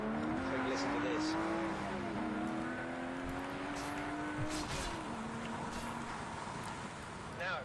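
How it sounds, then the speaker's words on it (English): A Ferrari sports car engine revs and accelerates through rising, stepping gear changes, loud and continuous throughout. "I like to hear the engine again."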